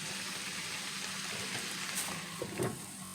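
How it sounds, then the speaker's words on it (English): Rice frying in oil in a pot gives a steady, close sizzle that runs the whole time, with a brief louder clatter of stirring near the end and no talking. "Okay, we're frying the rice now."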